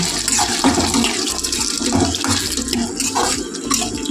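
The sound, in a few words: Pouring tamarind juice into frying tomato masala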